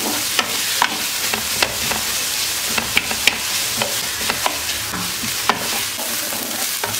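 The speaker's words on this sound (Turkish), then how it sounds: "Soğanlar da pembeleşene kadar kavuruyorum." Minced meat and onions fry in a pot for stovetop karnıyarık, giving a loud continuous sizzle broken by repeated sharp clicks and scrapes of a spoon stirring.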